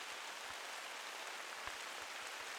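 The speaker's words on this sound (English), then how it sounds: "You start a hunt, and it's just pouring rain." Steady, dense pouring rain in the hunting game theHunter: Call of the Wild, a constant hiss that fills the scene with scattered low drips and thumps underneath, no voices.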